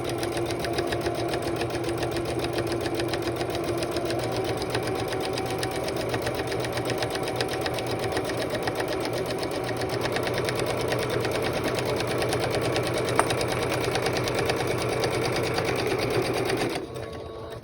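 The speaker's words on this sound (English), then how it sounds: "what I do is I sew down the sides of my webbing" A sewing machine stitching down the sides of webbing runs in one steady, fast, close mechanical whir for over sixteen seconds before stopping abruptly, with no talk.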